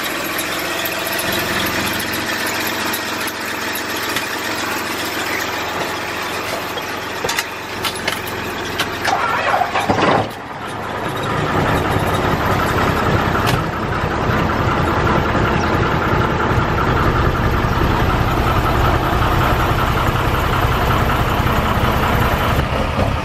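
A 1982 Mack truck diesel engine, loud and close, running at a rough idle, then revved hard and held at a steady roar for the second half.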